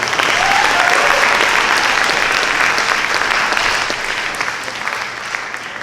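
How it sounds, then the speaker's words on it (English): Loud, sustained audience applause at a high school band concert, a dense wash of clapping from a large crowd that tapers off slightly toward the end. "So let's give them a round of applause"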